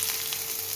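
Onion sautés in a pan with a soft, steady frying sizzle and faint crackle, close and continuous, with no voices.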